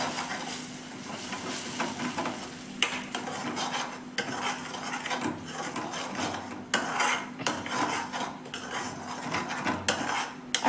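Onion-garlic chutney paste with salt being stirred in a pan, continuous scraping and clinking of a spoon against metal with a soft sizzle underneath, with the rhythm quickening toward the end.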